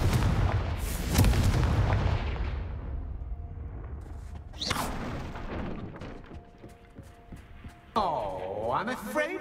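The Confringo blasting spell in the video game Hogwarts Legacy sets off heavy booming explosions followed by rumbling, crackling debris and a later whooshing magical burst, loud and layered with game effects.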